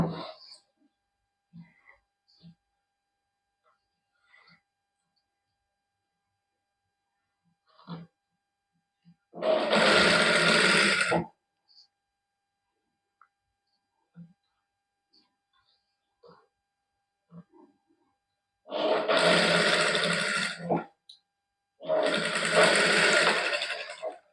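A sewing machine stitches lace onto a Pakistani kameez in three loud bursts, one short run and then two more close together, with near silence and small handling noises between them.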